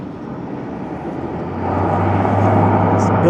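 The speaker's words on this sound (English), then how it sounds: "There's a plane just powering up for takeoff there." Out at Billy Bishop Airport a distant plane powers up for takeoff, its low engine drone swelling and holding steady beneath a broad hum of waterfront ambience.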